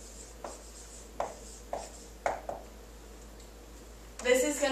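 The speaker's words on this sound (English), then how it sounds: "I'll write it over here." Pen writing on paper during a math lesson: several short scratchy strokes in quick bursts, close and fairly quiet, followed by a louder rustle at the end.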